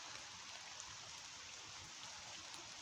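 Steady rain patters down outdoors beside the Manchester, Bolton & Bury canal at the old Ladyshore Colliery, a dense, even hiss that runs unbroken throughout with no voices.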